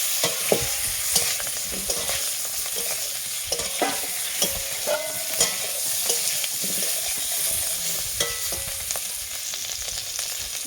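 Potato pieces fry in hot oil seasoned with turmeric and salt, a loud, steady sizzle broken by repeated scraping stirs and clinks of the spoon against the pan at irregular intervals.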